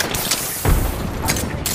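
A frag grenade goes off in the battle royale game Apex Legends as a single dull, heavy boom partway through, close and short, over a steady background of game noise.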